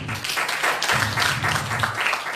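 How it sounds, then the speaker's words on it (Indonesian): A church congregation claps together at a worship service, a dense, steady patter of many hands filling the room for a couple of seconds with a brief dip partway through. "Tepuk tangan untuk Tuhan."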